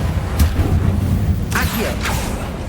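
The Confringo blasting spell going off in the Hogwarts Legacy video game inside the Feldcroft Catacomb, two sharp bursts with crackling tails over a low rumbling game score, with a spoken voice in between.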